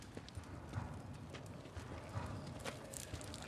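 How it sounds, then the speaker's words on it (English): Horses walk with a steady, rhythmic clip-clop of hooves, quiet and slightly distant, heard alone with no talk over it. "Horses."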